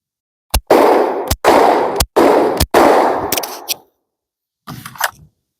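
A shotgun fires four buckshot rounds and four standard 7.5 load shells, producing loud, close blasts in quick succession with short echoing tails, followed by a pause and a fainter clatter.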